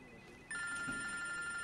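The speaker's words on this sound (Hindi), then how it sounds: "आपका फोन बज रहा है" A telephone starts ringing about halfway through, a steady electronic ring with clear tones over a quiet indoor room hush. It is moderately loud and nobody speaks during it.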